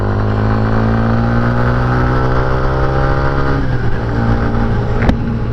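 Steady engine drone of a Kawasaki Ninja 400 and Honda CB 400 riding near the Marilaque highway in the Philippines, with a constant hum, a gear shift near the end and wind rush throughout.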